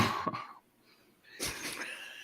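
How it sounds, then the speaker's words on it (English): A person clears their throat in a short rough burst at the start, followed by a quiet gap and a second breathy, raspy sound, close and fairly soft. "so I just figured I'd still clear my throat"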